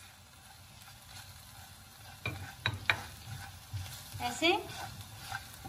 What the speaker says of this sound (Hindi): अब बाकी मैं मसाले डाल दूं इसमें और इसको मिक्स कर लेती हूँ